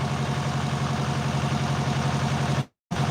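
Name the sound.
tractor engine while moving garden soil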